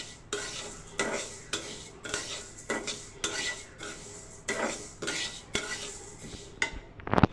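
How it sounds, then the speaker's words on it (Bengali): Spoon scraping and clattering in a pan as mung dal with chicken skin is stirred, repeated rhythmic strokes against the metal with a faint sizzle beneath. "যতক্ষণ না লাল হচ্ছে ঠিক ততক্ষণ নেড়ে নিতে হচ্ছে।"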